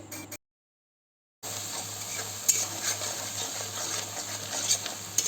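Spice paste frying in oil with panch phoron for a chicken dish, a close steady sizzle with scraping stirring strokes and faint metal clinks, cut by a short silent gap near the start.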